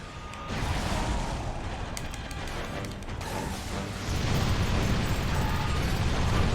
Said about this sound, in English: I got some mega guns for you, dude.